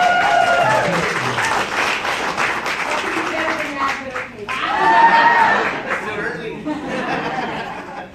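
A Tejano music convention audience applauds for a singer, loud sustained clapping with some laughter and chatter, while a voice speaks over part of it.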